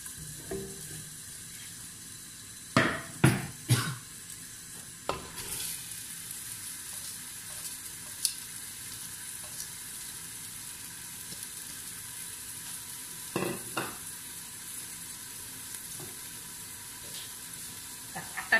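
Onion fries in hot oil in a pressure cooker, a steady close sizzle with a few clattering bursts of stirring and knocks against the pot, mostly without talk.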